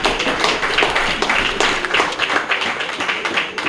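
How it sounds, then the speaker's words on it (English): Audience applause at an awards dinner and fundraiser, a steady dense patter of many hands clapping throughout, fairly loud and sustained with no break. "Principal Dave Miley deserves another round of applause."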